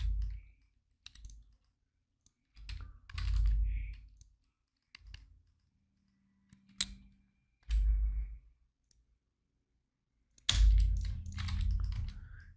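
Computer keyboard keys pressed during 3D modelling work in Blender, isolated sharp clicks scattered between quiet gaps, with occasional low mouse and desk thumps.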